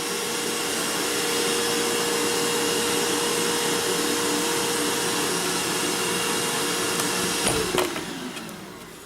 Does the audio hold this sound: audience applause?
no